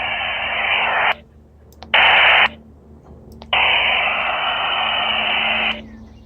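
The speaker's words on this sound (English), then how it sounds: "if I open up the squelch on this radio" Static hiss from a Harris RF-7800R radio with its squelch opened, coming in loud bursts: a short burst, a brief second one, then a longer steady stretch of rushing noise with quiet gaps between.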